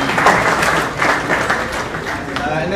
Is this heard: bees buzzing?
no